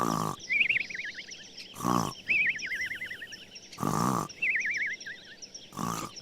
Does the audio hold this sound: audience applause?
no